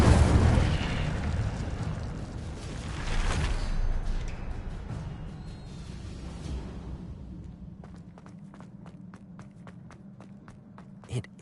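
A fiery Incendio spell explosion in the video game Hogwarts Legacy bursts loudly at the start, rumbling and crackling before fading into lighter game sounds and quick footsteps.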